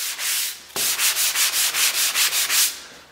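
Drywall joint compound being hand-sanded on a metal garage wall, a steady run of about a dozen rhythmic up-and-down scrubbing strokes after a brief pause, close and fairly loud with no talking.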